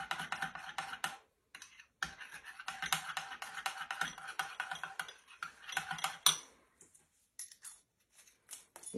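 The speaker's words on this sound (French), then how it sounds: "Mélanger le tout. Il faut bien mélanger." Green food colouring being whisked into crêpe batter made with yogurt, a steady rapid clatter of a utensil against the bowl with brief pauses, close and alone.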